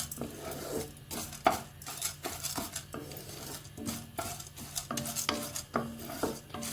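Chana dal and urad dal are dry-roasted in a pan for karivepaku karam podi, stirred with a metal spoon that produces frequent rhythmic scrapes and clinks against the pan over a faint background, with no voices.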